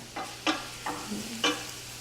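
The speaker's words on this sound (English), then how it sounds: "So keep stirring, and if you saw that, the sizzle went down a little bit." Scrambled tofu with tomato crackles softly in a pan as a spoon scrapes through it in several separate strokes, a quiet sizzle running beneath the scraping with no talking.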